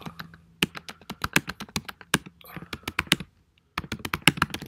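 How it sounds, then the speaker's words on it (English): Close computer keyboard typing rattles out in quick bursts of crisp key clicks, pausing briefly before a final flurry, with no voice over it. "I'm just going to type some gibberish."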